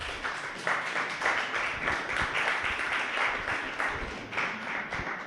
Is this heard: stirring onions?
no